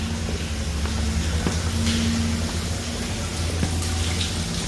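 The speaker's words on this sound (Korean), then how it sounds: "이 탱크가 지금 뜨거운 물로 샤워가 되고 있는 게 보이시죠?" Hot water sprays steadily over a tank, a continuous close hiss and splatter with faint knocks underneath and no break in the flow.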